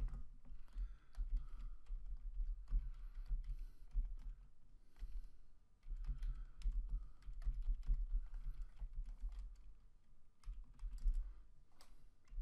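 Continuous clicking of a computer keyboard, keys tapped in uneven bursts at a moderate pace, close by and fairly quiet, with no voices.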